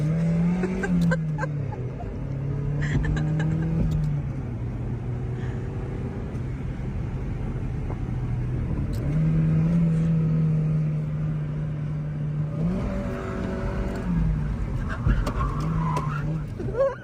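Mazda Miata driving with engine tones rising and falling through gear changes, a steady in-car drone with brief tire noise, and faint voices now and then.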